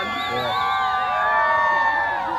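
A loud crowd cheers and whoops at an outdoor VW bus car show, a continuous blend of shouting voices and excited calls close by, with overlapping babble throughout.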